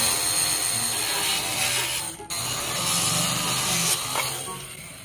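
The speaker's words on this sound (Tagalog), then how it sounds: "Ito muna ang puputulin natin para mapantay natin." A power tool cuts through the plastic fairing of a motorcycle, with a steady, loud, rough grinding buzz. There is one brief dip partway through and no talking.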